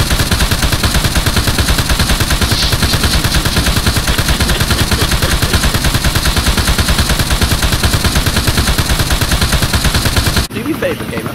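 Continuous rapid automatic gunfire from the Arma 3 video game during a convoy mission, loud and close, a steady unbroken stream of shots that cuts off abruptly near the end.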